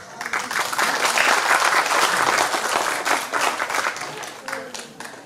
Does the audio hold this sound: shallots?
no